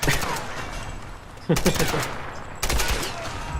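Powerful gunfire in the Tomb Raider video game, with repeated bursts of rapid shots, the first dense volley followed by two more sharp onsets, loud and close, with a voice talking faintly underneath.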